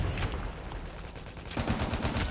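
HG-40 gunfire in the Call of Duty Mobile video game, with rapid automatic bursts that continue almost without pause, loud and close, over dense game background noise.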